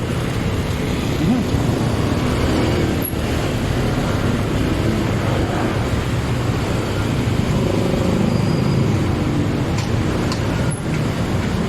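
Steady road traffic in the Ortigas area of Manila, a constant dense rumble of car and bus engines filling the scene from start to finish, with no clear individual passes standing out.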